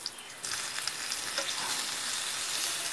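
Stuffed padval (snake gourd) browns in a frying pan with a steady, fairly quiet hiss of frying oil, marked by a few soft crackles and a small shuffle near the start.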